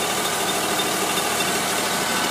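Fire engine's high-pressure pump engine running at full throttle, a steady loud broadband roar with continuous low rumble and no pauses.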